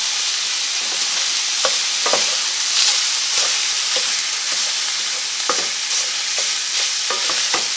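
Meat browns in a pot for Zuppa Toscana, a steady loud sizzle broken by repeated clicks and scrapes of stirring, with no voices.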